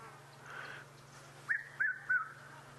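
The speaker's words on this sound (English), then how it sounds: "Red-chested cuckoo just flew over us. You may have heard it." A red-chested cuckoo calls three times in quick succession on a sunrise safari, clear whistled notes rising over a quiet background hum.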